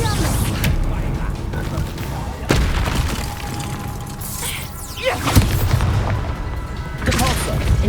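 Spells cast in Hogwarts Legacy, including levitation and disarming charms, burst out as booming impacts and whooshing swishes, with thuds and mechanical crashes scattered over several seconds, loud and close.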